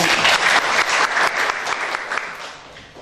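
A church congregation claps during a worship service, a burst of dense applause that starts loud and gradually thins and fades over a few seconds.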